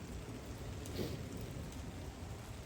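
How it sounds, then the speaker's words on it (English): Steady light drizzle falling outdoors, a soft continuous hiss of fine raindrops with no talk over it. "Like right now it's just drizzling"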